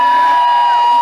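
Crowd at a political rally cheering and whooping loudly, a sustained dense roar with a steady high tone running through it for about a second.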